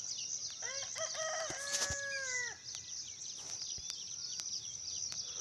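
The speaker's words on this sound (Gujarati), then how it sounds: "ને જો બાજુમાં કુકડા બોલે છે." Roosters crowing nearby on a rain-soaked farm plot, one loud full cock-a-doodle-doo near the start over steady background noise, with fainter clucks after.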